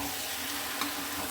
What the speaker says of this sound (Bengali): এবার এটাকে খুব ভালো করে ফ্লেমটা লো করে কষিয়ে নিতে হবে।